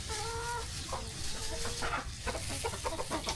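Hens clucking steadily in a close, busy group, with overlapping short clucks and a few drawn-out calls throughout.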